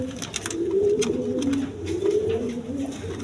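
Pigeons, a pair of Rampuri pigeons, coo continuously in low, throaty, rolling calls, close by, with faint background noise and no talking.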